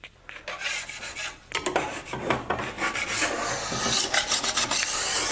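A putty knife scrapes squeezed-out glue off a wooden cabinet door panel in a workshop, giving close, uneven rasping strokes in quick repeated bursts, with no talking.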